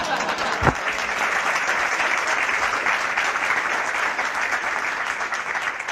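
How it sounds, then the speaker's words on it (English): A crowd applauds steadily throughout, dense clapping from many hands filling the space at an even, sustained level. "Would you like to spontaneously applause"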